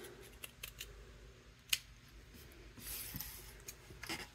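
Scissors snipping through fabric to cut out corner squares for a tote bag, a series of soft, close, crisp cuts with a few sharper clicks at a quiet level.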